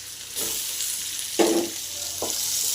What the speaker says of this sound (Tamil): நல்லா ஃப்ரை பண்ணிடுவாங்க வெங்காயம் நல்லா ஃப்ரை ஆகணும்